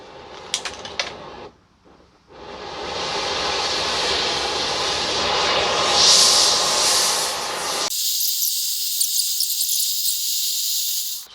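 A propane forge burner roars loudly and steadily under a carport while heating knife steel, a continuous broad whoosh with a brief dip early on before it cuts off abruptly, leaving a faint high hiss.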